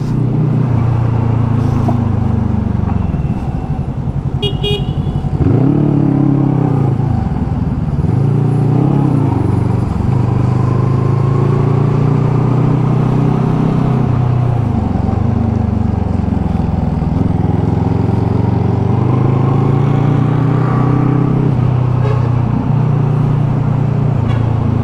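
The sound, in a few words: vehicle engine running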